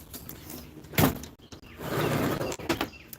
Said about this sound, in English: Let me shut the door so Jack isn't a jerk